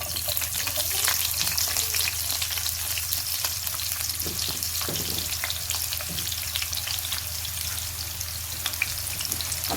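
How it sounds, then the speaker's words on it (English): One small sliced onion fries in a pan alongside cardamom, giving a steady, close hiss of sizzling oil with occasional stirring scrapes and no talking. "we're just going to fry these onions until they change colour"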